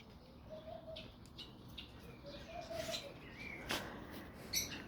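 Garden birds waiting for their morning wheat give faint, scattered chirps and soft coos at a distance over quiet outdoor background, with a few brief sharper calls.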